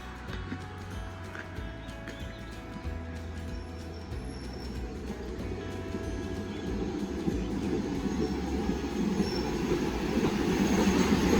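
A train pulls out of Mae Mo railway station in Thailand, rumbling nearby with low mechanical droning and clanking, growing louder and rougher as it gets moving, with faint squeals of wheels on the rails.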